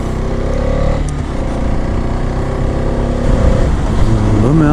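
A vehicle climbing the Thimbam hairpin ghat road through the Sathyamangalam forest in fifth gear, its engine droning loud and close with steady rumble and a rising note near the end.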